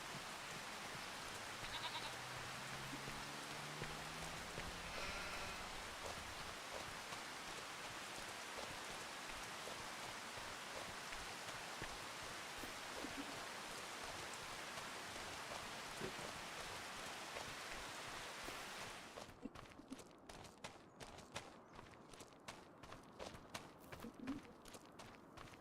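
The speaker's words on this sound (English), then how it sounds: "Okay, so this rain should be stopping soon." Steady rain pours in Farming Simulator 25 on a Gloucestershire vineyard and olive farm, a dense even hiss with faint sheep bleats early on, then thins abruptly into scattered, sparser drops near the end.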